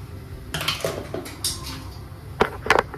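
Red chili, turmeric and salt for hakka noodles are stirred in a pan, with scattered clinks and scrapes of a metal spoon against the pan and a few sharper knocks near the end.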